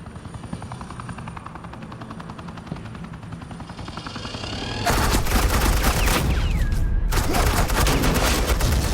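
Suppressing gunfire in Batman: The Enemy Within plays over a droning helicopter, rapid bursts of shots starting loud around the midpoint and carrying on to the end with a short lull.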